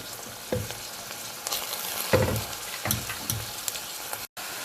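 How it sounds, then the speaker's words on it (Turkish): Onions and spinach stems sizzle steadily in a hot pan, with occasional stirring scrapes and clinks over the continuous frying hiss, close and fairly loud. "Şimdi ıspanak saplarımızı da koyalım içine. İkisi bir miktar daha kavrulsun."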